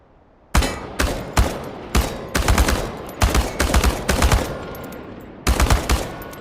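Automatic rifle fire rattles at cans on a shooting range in Chernobylite, loud close bursts of rapid shots separated by short pauses, with no talking.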